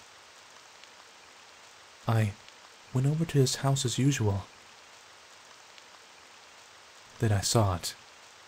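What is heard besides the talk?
rain sound effect in Yandere Strawberry Milk video game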